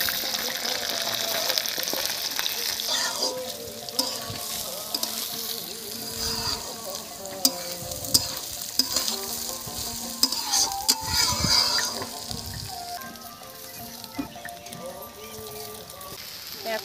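Rice being stir-fried with bay leaf, cardamom, cloves, cinnamon, cashews and raisins in a pan for homemade pulao, a steady close scraping and sizzling that shifts in rhythm as the grains are turned.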